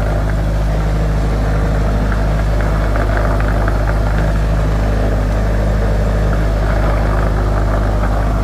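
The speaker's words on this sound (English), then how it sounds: "So the noise, I thought it was the bumper support," Loud, constant engine rumble from a 2001 Acura Integra Type R with a low hum and faint irregular rattling mixed in from a loose bumper support vibrating while the car runs.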